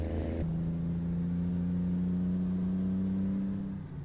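Kenworth K100E truck driving in Euro Truck Simulator 2, a steady loud engine drone with a constant low hum and a thin high whine that rises slowly and falls, an air-brake hiss at the very start.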